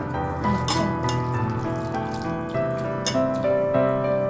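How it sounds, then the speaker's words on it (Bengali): Water splashes into a pan of hot oil and chilies while a fish curry cooks, giving a steady watery rush with squeaky, ringing tones and a few louder spatters. "এবার আমি জল দিচ্ছি, হাত ধোয়া জল দিলাম।"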